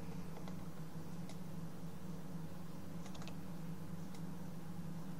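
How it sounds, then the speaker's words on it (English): Computer keyboard key presses while editing in Photoshop, a few light, sparse clicks over a steady low room hum, with no talking. "You can simply draw around and press the F4 key like this."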